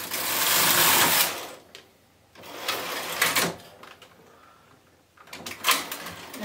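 A Brother KH 970 knitting machine carriage sliding through the colour changer in bursts, a loud rushing mechanical whir that rises, cuts out and starts again three times, close up with no talking.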